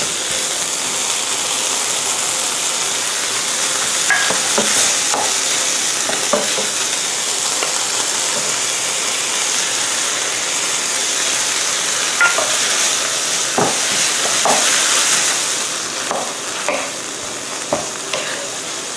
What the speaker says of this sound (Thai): ผัดให้เนื้อพอสุกหมดสีแดงๆเนี่ยนะคะ